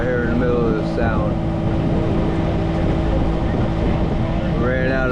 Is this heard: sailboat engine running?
yes